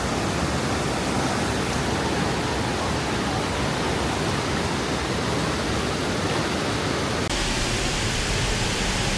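A 50-metre hot spring waterfall at Luoji Mountain in Sichuan pours 40-degree water down a cliff face, making a dense, constant roar that fills the scene without a break.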